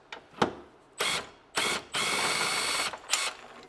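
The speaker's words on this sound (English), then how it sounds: "as we go ahead and start loosening our bolts" A hand ratchet loosens suspension bolts on a BMW E39 540i, heard as several short, close bursts of clicking separated by brief pauses, including one longer spell of cranking, with no talk.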